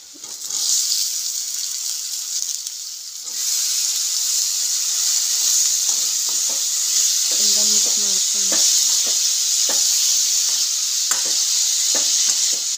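Tomatoes tipped into a hot pan of oil for a village-style dish, sizzling loudly and steadily with scattered stirring knocks and scrapes, no voices.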